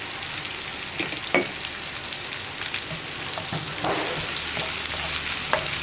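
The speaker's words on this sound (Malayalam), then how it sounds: "സവോള ചേർത്ത് നന്നായിട്ടൊന്ന് വഴറ്റിയെടുക്കുക" Onions sauté with salt in a pan for a potato masala, giving a steady crackling sizzle close by, broken by the occasional scrape and clink of stirring, with no voices.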